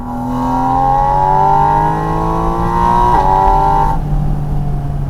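A Porsche Boxster Spyder RS engine revs loudly, its pitch climbing steadily, dipping briefly with a shift, then holding high before easing off.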